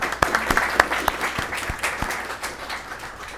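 Applause at a city council meeting in Garden Grove: a small crowd claps for a few seconds, sharp individual claps standing out at first and then settling into a softer, thinning patter.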